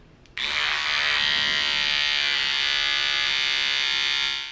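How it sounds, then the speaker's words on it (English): A Philips Norelco Bodygroom BG2030 body trimmer fitted with its trimmer attachment switches on abruptly and runs with a steady, close, high-pitched electric buzz that fades slightly at the very end. "Let's test it again with the trimmer attachment"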